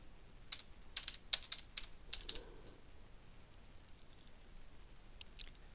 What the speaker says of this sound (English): You can type in a street name.